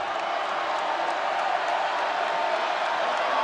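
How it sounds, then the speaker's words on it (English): Loud, sustained roar of a basketball arena crowd during a free throw attempt, a dense continuous wash of voices with scattered shouts and no pauses. "The crowd is loud for the free throw attempt."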